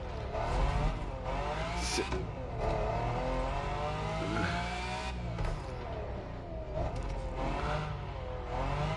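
Lamborghini Countach LPI 800-4 engine revving hard in The Crew Motorfest, loud and close, climbing and dropping through repeated gear-change sweeps with a high whine, no talk over it.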